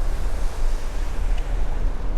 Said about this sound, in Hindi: यहाँ पे एक छोटा सा झरना है और बेहद खूबसूरत